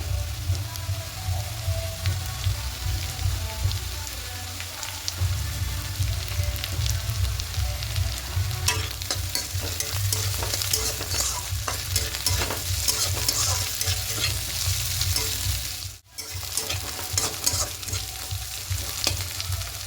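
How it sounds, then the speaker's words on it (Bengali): Bitter gourd and potato slices fry uncovered in a pan, a steady close crackling sizzle with stirring scrapes throughout, dipping briefly near the end before resuming. "ঢাকা না দিয়ে এভাবে করে একটু কড়া করে ভেজে নেব"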